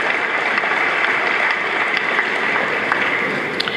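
Women applauding at a gathering, a steady wash of hand claps that holds at an even level for a few seconds with no voices over it.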